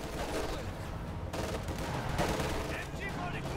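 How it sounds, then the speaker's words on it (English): Dense, continuous bursts of small-arms and machine-gun fire crackle through a World War II battle in a 1v1 Company of Heroes 2 match, layered and moderately loud throughout. "Duska's opening up there, pushing back the Panzer Grenadier"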